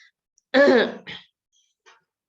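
A single harsh cough followed by a shorter second one, close and fairly loud, then quiet.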